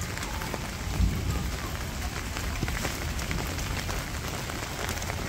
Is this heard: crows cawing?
no